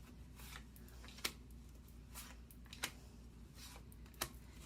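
Tarot cards shuffled by hand in a quiet room, a soft continuous riffling with three sharp card snaps spaced about a second and a half apart.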